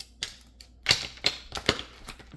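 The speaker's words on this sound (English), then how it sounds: "I love to shuffle, baby." A deck of cards being shuffled, a quick series of sharp crisp riffling snaps and flicks, close and clear, about half a dozen bursts in under three seconds.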